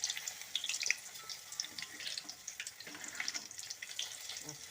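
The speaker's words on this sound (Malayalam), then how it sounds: "അതിലേക്ക് നമുക്ക് പൂരി ഇട്ട് കൊടുക്കാം." Puri dropped into hot oil in a cheenachatti fries with a continuous crackling sizzle, steady and fairly soft, dotted with small pops and bubbling spatters.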